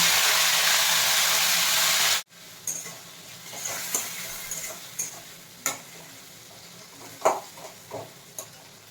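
A tomato drops into a hot spice tempering with dried red chilli. A loud, hissing sizzle cuts off abruptly, then quieter frying follows with repeated sharp scraping and tapping strokes of a spatula in the pan.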